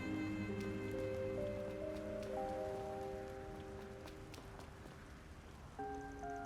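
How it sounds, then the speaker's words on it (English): A soft, continuous patter of rain in a video game, Trails Through Daybreak, beneath gentle melodic music notes. "Rain goes plip-plop."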